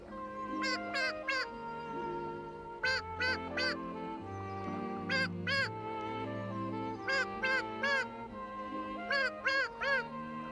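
Cartoon ducks quack on a pond in clustered bursts of several quacks, layered over a steady bed of gentle background music, fairly close and clear.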